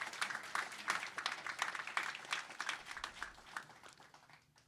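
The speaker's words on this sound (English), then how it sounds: "Give them another round of applause for all the hard work that's gone into this" A school audience at an academies announcement claps in a fairly faint, distant round of applause that tapers off toward the end.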